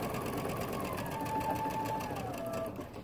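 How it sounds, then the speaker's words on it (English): A sewing machine runs steadily while piecing a quilt, stitching straight over a pin in one continuous whirring run that stays close and even throughout. "Now watch, I'm gonna sew right over that pin."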